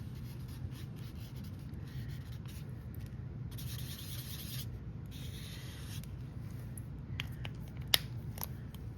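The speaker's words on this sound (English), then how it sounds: "But you can erase it even more than that." An eraser rubs over colored pencil on paper, a soft dry scrubbing that comes in close, steady strokes and stops briefly now and then, with no voices.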